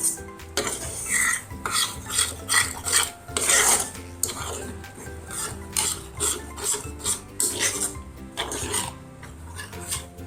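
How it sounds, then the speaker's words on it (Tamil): A spoon scrapes and clinks round a bowl, stirring a green gram mixture loosened with milk, in quick rhythmic strokes that repeat close up for about ten seconds. "1 கப் பால் ஆட் பண்ணிவிட்டு நல்லா கட்டிலாம் எதுவுமே இல்லாமல் நல்லா மிக்ஸ் பண்ணி விட்டுக்கோங்க"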